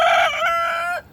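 A single rooster crows once in a backyard flock, one loud, near, drawn-out call lasting about a second before cutting off into quiet.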